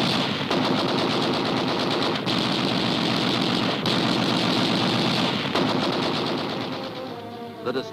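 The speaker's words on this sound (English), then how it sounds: "a torrent of gunfire is turned on the crippled sub" Sustained machine gun fire at a crippled submarine rattles almost nonstop, loud and harsh, with brief pauses before trailing off at the end.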